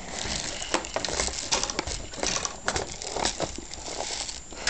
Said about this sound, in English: And put the box mag back onto the gun.